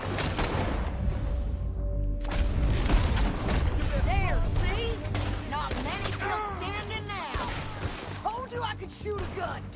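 Gunfire in the video game Red Dead Redemption 2: rapid volleys of booming shots in a dense burst, loud and close, with character voices calling out between them.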